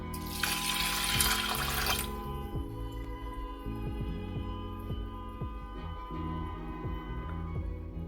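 Water gushes into a pot for about two seconds, then stops, leaving a steady low electrical hum with faint drips and clinks.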